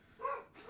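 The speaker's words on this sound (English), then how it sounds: "Now my dogs are barking like crazy." Dogs barking indoors at a delivery arrival, a short burst of a few sharp barks at moderate distance, briefly rising then trailing off.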